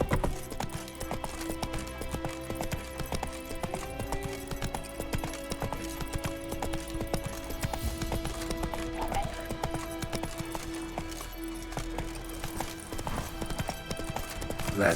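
Horse hooves clip-clopping at a steady walking rhythm in the video game The Witcher 3, continuous and fairly close, with game music and ambience underneath.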